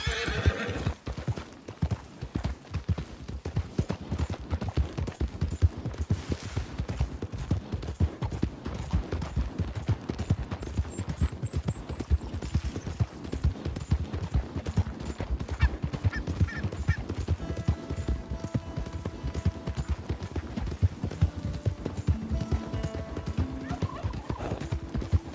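Horse hooves clip-clop steadily through Red Dead Redemption 2, with occasional whinnies and neighs over a dense, continuous game soundscape of music and ambience.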